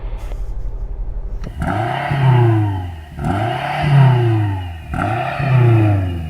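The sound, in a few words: BMW M5 engine revving during sound check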